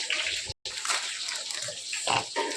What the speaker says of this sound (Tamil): மீன் கழுவி frying process is going on